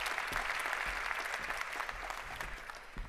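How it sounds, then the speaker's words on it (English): A conference audience claps for Canada's Ambassador for Climate Change as she walks on stage, a steady, moderately distant wash of many hands that tapers slightly toward the end. "Let's give her a round of applause while she joins us on stage"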